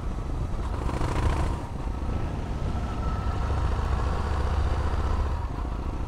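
A 2005 Yamaha MT-01 motorcycle's big engine runs loud and close at low revs, with a deep, steady throb that swells briefly early on and then holds a continuous rumble.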